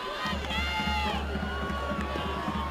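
Football crowd at a high school game, Mchi versus Brownsville Rivera, giving a short cheer from the stands, steady crowd noise with scattered shouts and whoops, distant and sustained.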